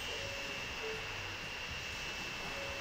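An airplane engine in the Transport Fever 2 video game produces a steady, even droning hum with a faint high whine, unchanging throughout and with no voices.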